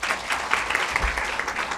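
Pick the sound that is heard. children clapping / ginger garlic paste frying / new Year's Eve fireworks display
children clapping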